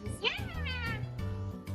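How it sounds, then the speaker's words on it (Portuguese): A cat meows in a rising, drawn-out call at close range, with a few shorter vocal sounds and some background music over the clip's brief length. "Eu quero saber porque o gato mia."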